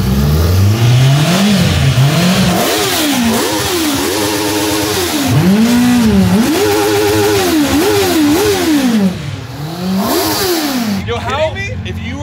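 A 1964 Honda S600 fitted with a 1000cc CBR motorcycle engine revs hard and repeatedly, its loud, high-pitched engine note rising and falling in quick rhythmic bursts close by, with a brief pause near the end.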